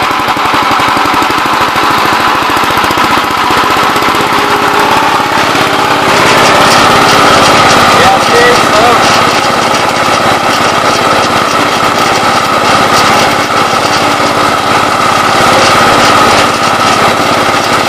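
A Gravely 20 gallon sprayer pump, its check balls hanging up, runs loud and continuous at a higher speed with a rough, rapid mechanical chatter; someone speaks briefly over it.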